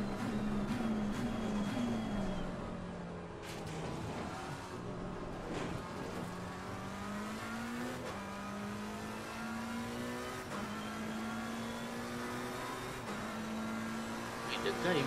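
Race car engine from Assetto Corsa Competizione at Suzuka, a steady near drone that rises and falls in pitch through gear changes and throttle swells for the whole stretch, with people talking over it.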